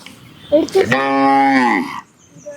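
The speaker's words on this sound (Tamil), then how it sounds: "இது கண்ணு மாடு. இங்கே இருக்கு கண்ணு." A calf or cow at a native cattle fair gives one loud, close moo that swells and holds for about a second, then stops.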